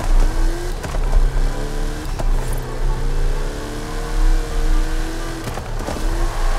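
A Mahindra Thar's engine in Forza Horizon 5 during a drift in a jungle off-road race: a steady, rumbling engine whose pitch rises and falls as the throttle surges, loud and close, with no talking.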